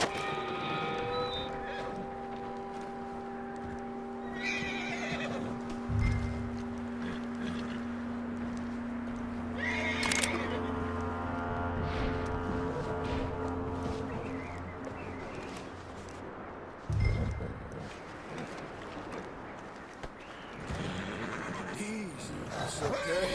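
A horse whinnies in drawn-out, ringing calls in the video game Red Dead Redemption 2, with a few thudding hoof sounds and people talking nearby over a steady background hum.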